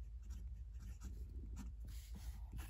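A Moonman Q1 fountain pen with a fine steel nib and green ink writes on paper, giving soft close scratchy strokes in quick, irregular bursts, very quiet and with no talk.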